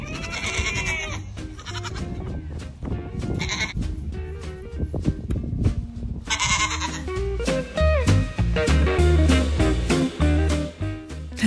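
Goat on a farm screaming and bleating repeatedly, loud close cries in bursts with short pauses between, several calls overlapping toward the end.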